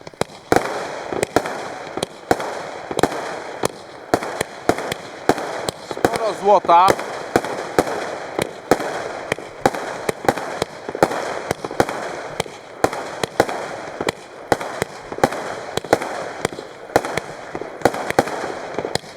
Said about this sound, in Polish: Number 13, Crown Jewels. Nowość. 20 mm 64 strzały.